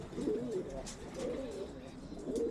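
Soft, steady cooing from a racing pigeon arriving after a long-distance race, low and murmuring with a repeated rhythm, heard close against a light background hiss.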